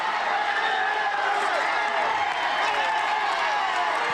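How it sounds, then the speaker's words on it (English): A massive roadside crowd cheers at the Tour de France, 2013 stage 13, about 10 kilometres from the finish: a dense, steady roar of shouting and whooping that holds at full strength throughout, with voices mixed in. "Massive, massive crowd here"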